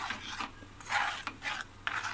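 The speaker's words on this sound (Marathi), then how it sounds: "थोडंसं ढवळून घेऊया त्याला" A spoon scrapes around a pan of egg masala curry with a little added water, making four short rasping strokes in an uneven rhythm, close and fairly soft, with no talking.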